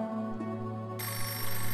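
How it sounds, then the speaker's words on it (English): A telephone rings in the Pearl's Peril hidden-object video game, a steady electronic ring carrying over soft background game music at moderate loudness. "So the phone's ringing, I better answer it."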